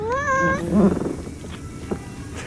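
A cat gives one clear, rising meow up close, followed by quieter rustling and faint background sounds.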